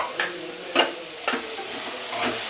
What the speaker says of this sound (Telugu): ఇప్పుడు మూత ముట్టేసి ఒక 10 నిమిషాలు అది బాగా ఫ్రై అవ్వని.